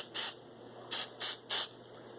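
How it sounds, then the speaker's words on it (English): Hairspray aerosol sprayed onto styled hair in four short hissing bursts, the last three closer together, close and fairly loud with quiet between. "I'm going to hit mine with a shot of hairspray because my hairspray has more stick than this hair gel"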